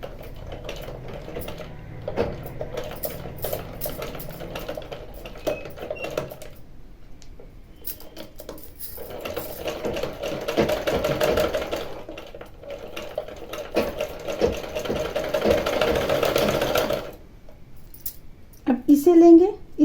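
Sewing machine stitching fabric for a small ornamental dhoti, running in bursts with brief pauses, close and fairly loud, with rustling and handling noises between runs.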